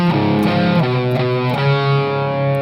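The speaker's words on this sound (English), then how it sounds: "you're going to want to turn on some distortion" Distorted electric guitar plays the Nirvana "Heart-Shaped Box" riff, loud and close, with a few sustained chords changing roughly every half second before ringing out.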